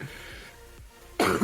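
A person coughs once, a short harsh burst close to the mic, after a stretch of quiet room noise.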